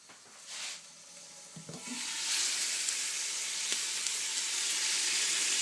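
Vegetables, including carrot, for a celeriac soup sizzle and fry in a pot, a steady broadband hiss that swells and holds loud and close after a couple of seconds, with faint stirring clicks and no talk.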